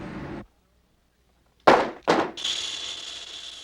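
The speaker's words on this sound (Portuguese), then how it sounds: "Nós temos uma máquina que está serrando baterias" A cutting machine saws through batteries for lead recycling, heard as two loud rasping bursts followed by a sustained high-pitched grinding whine, close and with no talk.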